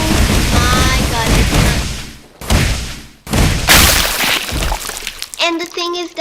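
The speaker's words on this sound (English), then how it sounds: "We're gonna be doing the Gum Gatling" A Gum Gatling rapid punch attack in Roblox Strongest Battlegrounds bursts as dense volleys of sharp impacts, broken by brief pauses, then rattling hits at the end, with a voice talking over parts of it.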